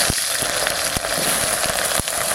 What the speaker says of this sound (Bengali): তেল দিচ্ছি, সরষের তেল। লতি কটা একটু ভেজে তুলে নেব।